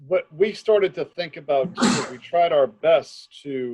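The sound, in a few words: sneeze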